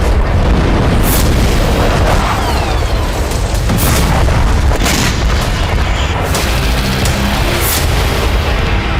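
A Ukrainian ballistic missile test launch gives a constant, loud roaring rumble that fills the whole stretch, overlaid with several sharp cracking bursts and booms. No voices are heard.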